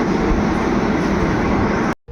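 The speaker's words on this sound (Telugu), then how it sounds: "ఇది విశాఖపట్నం నుంచి తిరుపతి డబల్ డక్కర్ ఎక్స్ప్రెస్." Visakhapatnam–Tirupati double decker express train, a loud, close, continuous rolling roar that ends in a sudden cutoff.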